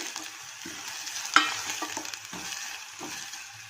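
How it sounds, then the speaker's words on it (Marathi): Finely chopped onion sautés in a pan with whole spices for chicken shorba, a low close sizzle punctuated by one sharp utensil knock and several soft scraping stirs, no voices. "आता आपण याच्यामध्ये बारीक चिरलेला एक कांदा घेणार आहोत कांदा चांगला परतून घ्यायचा आहे"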